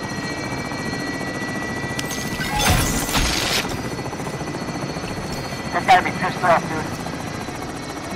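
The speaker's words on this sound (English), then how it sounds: "take their money and drop them in the chopper now" A helicopter in a video game heist mode, its steady rotor drone running loud and continuous beneath a player's voice, with brief bursts of other game noise partway through.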